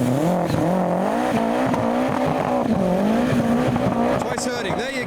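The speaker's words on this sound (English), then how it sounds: "Golf's revving as well. Through the R32 pipes." Modified cars, including a Golf with R32 exhaust pipes, rev and accelerate while leaving a car show in heavy rain, a continuous loud wavering engine drone with rising and falling pitch, close by.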